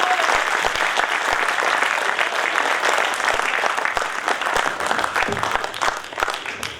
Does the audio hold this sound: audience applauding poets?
yes